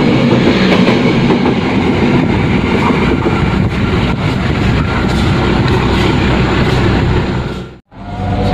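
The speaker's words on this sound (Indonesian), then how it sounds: "sekarang keretanya masih di stasiun Bumiayu, persiapan berangkat kembali." The Sawunggalih Utama train at Bumiayu station rumbles loudly and continuously with clattering wheel and carriage noise, dropping abruptly to a brief hush near the end before the roar resumes.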